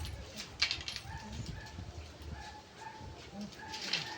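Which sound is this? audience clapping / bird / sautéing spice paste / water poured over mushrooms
bird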